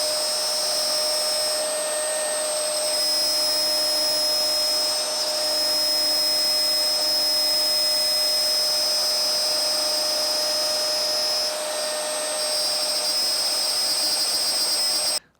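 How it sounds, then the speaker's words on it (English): A large router cuts freehand into a live edge wooden desk top for bowtie inlays, a loud, steady high-pitched whine that runs close and unbroken for about fifteen seconds before stopping abruptly. "A palm router would be better than this big yoke, but I haven't got a palm router, so I'm going to have to use this."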